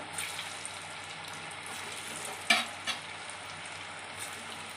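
Elephant yam kola balls fry in oil over a low flame, giving a steady close sizzle and bubbling throughout, with a couple of brief clinks from a stirring spoon.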